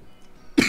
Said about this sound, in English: now I become cough again